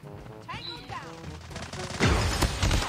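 Shotgun blasts from Call of Duty Mobile, a burst of loud, crashing gunfire rising toward the end over game effects and a voice.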